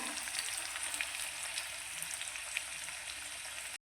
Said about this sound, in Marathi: चांगला कांदा परतून घ्यायचा